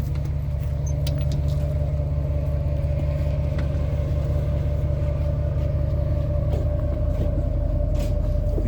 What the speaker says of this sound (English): Bro just pulled up in the motherfucking work truck.